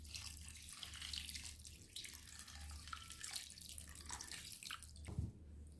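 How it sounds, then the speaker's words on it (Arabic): Water pours steadily into a cooking pot for chicken mandi with a continuous, soft splashing rush and a brief heavier splash near the end, with no talking. "هسه راح أخلي المي."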